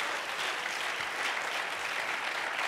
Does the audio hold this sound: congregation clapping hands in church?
yes